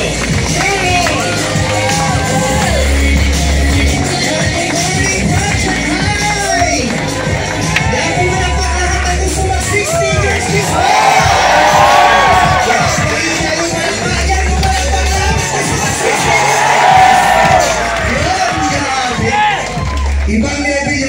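Large crowd applauding and cheering at a live event, with steady clapping, whoops and shouts filling the space loudly and continuously for the whole stretch, a voice calling out over it.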